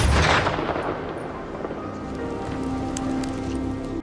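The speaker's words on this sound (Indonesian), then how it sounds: "Akhirnya ayahnya yang melakukan tembakan tersebut." A gunshot fired at a deer in a film bursts loud at the start, then fades into a long, hissing, rain-like tail with scattered faint crackles.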